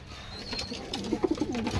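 Several pigeons coo in soft, low, repeated throaty phrases, close by and moderately loud, with faint rustling in the background.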